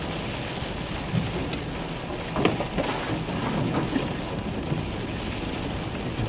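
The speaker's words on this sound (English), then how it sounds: "You can see all the branches and stuff are leaning down because of the wind and the rain." Heavy rain pouring steadily onto trees and leaves outdoors, with gusts of wind, a dense continuous hiss with scattered louder drips and rumbles throughout.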